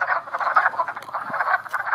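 Wood frogs croak densely and continuously in a breeding chorus as several males cling to a female during amplexus, with overlapping calls close by and no talking.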